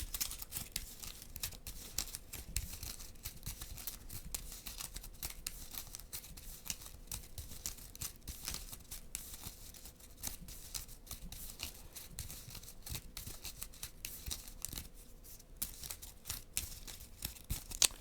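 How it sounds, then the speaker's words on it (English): A Marvel Champions card deck is shuffled at a tabletop, giving faint, repeated riffling and snapping card sounds in quick, irregular bursts throughout. "Shuffle this up."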